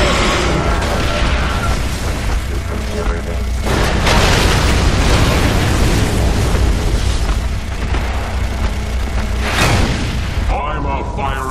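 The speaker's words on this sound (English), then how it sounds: "I'm a firing my laser" A sustained, roaring blast of energy fire, the laser shot from a character's eye in Far Cry 3 Blood Dragon, booms loudly and continuously, while voices speak over the din.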